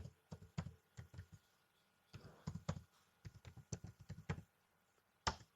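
Typing a web address on a computer keyboard: bursts of crisp, close key clicks in quick irregular runs, with a short pause in the middle and one sharper final tap, no talk.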